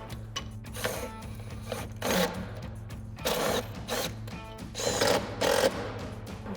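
Ratchet on a 10mm socket tightening factory bracket bolts on a Jeep Wrangler JL fender, quick clicking strokes in short bursts close up.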